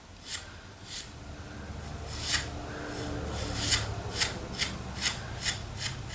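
Brush lightly dabbing paint accents onto a hydro-dipped deer skull, heard as soft, close scratchy strokes repeating in a loose rhythm of about a dozen quiet swipes over low background hum.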